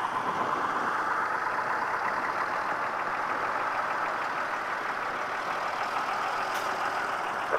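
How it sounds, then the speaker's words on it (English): Steady rumble of AEC Matador diesel lorries running at low speed around the arena edge at a vintage show, a continuous engine drone at moderate distance with no voices. "It's nice to see a couple of AECs there just going around the edge."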